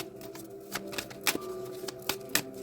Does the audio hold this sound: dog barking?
no